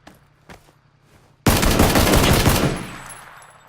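PUBG video game gunfire: after a few quiet clicks and faint taps, a loud sudden burst of rapid automatic shots rattles for over a second, then fades with a trailing echo.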